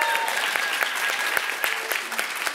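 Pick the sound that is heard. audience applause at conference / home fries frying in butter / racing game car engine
audience applause at conference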